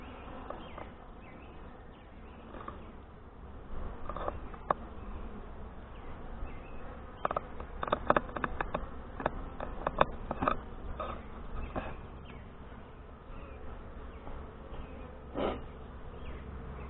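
Honey bees in a Saskatraz hive buzz in a steady, dense hum during a beekeeper's inspection, with close individual bees droning past and faint clicks and taps of frames being handled.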